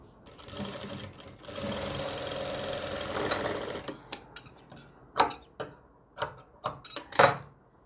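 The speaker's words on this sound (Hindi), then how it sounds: "अब इसको मैं इस तरीके से देखिए ये डबल सिलाई लगा दूँगा" A sewing machine runs a long, steady stitching burst on a suit, laying double stitching. It then turns into short, sharp stop-start bursts with clicks in between, close and fairly loud.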